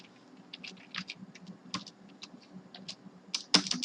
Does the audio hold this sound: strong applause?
no